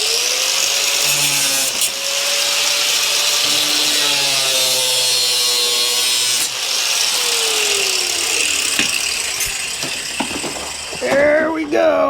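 Power saw cutting through the bumper of a Jeep Grand Cherokee: loud, continuous grinding and rasping with rising and falling whine as the blade bites, close by, with a brief break near the end.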